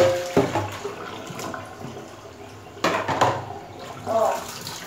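Cold water poured from a kitchen tap over cooked zucchini draining in a perforated colander, a close splashing rush in two louder bursts with a softer spatter between.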